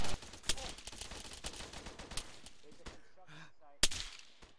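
Gunfire recorded on a helmet camera during a night firefight with an M4, with scattered sharp cracks and short bursts at varying distances, one very loud close shot near the end, and voices talking in between.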